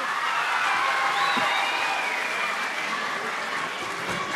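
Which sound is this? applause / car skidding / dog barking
applause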